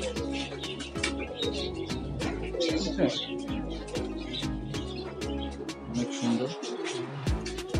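Pakistani pigeons coo repeatedly in a loft, with pulsing, overlapping calls close by and a few chirps, while someone speaks briefly over them.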